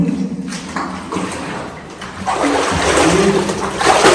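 Cold water rushes and splashes loudly in a cave, swelling into a steady spray in the second half, close by.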